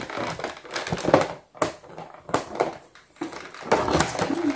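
Packaging tape crackles and rips as it is peeled from a cardboard toy box for a Sylvanian Families ice cream van, in several close, loud bursts with brief pauses between them.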